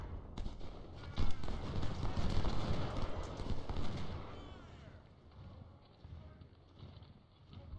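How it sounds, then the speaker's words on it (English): Rumbling artillery fire and scattered gunshots on a Second Bull Run battlefield in Ultimate General: Civil War, dense and booming at first, then thinning out into distant, fainter reports. "we've got artillery coming in."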